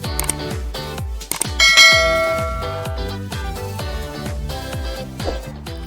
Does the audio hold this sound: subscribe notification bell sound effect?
yes